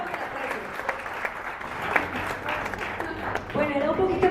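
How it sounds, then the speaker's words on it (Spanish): Steady audience applause at a talk, dense and fairly loud from start to finish, swelling a little toward the end. "Un aplauso para estos dos."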